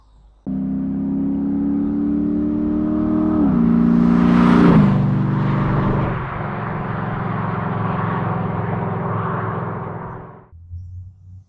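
A 1974 Plymouth Scamp muscle car with a four-speed manual, its engine starting and idling with a deep, steady rumble, then revving up sharply around the middle before settling back, loud and close, with no talk.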